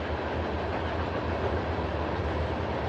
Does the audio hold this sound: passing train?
yes